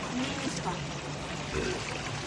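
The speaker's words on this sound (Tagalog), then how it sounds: "Ang tubig na rin galing sa bukal, tingnan niyo." Cold spring water pouring and trickling in a steady, moderate stream, with a person's voice talking over it throughout.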